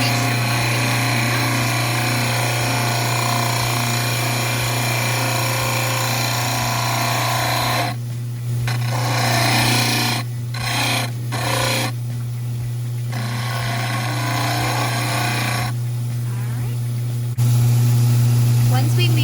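A powered grinder hums steadily while shaping dental stone study models, its motor tone dropping briefly as the stone is pressed against it, with grinding bursts in between and a voice talking over it.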